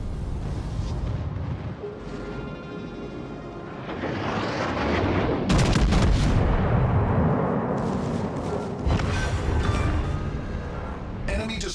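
Naval guns firing in World of Warships: Legends, repeated heavy booms and rumbling salvos across the clip, loud, with a voice speaking over parts of it.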